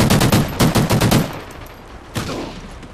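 A rapid burst of automatic gunfire from a Remington R5 rifle in a video game shooter, loud and close, followed after a pause by a single sharper shot.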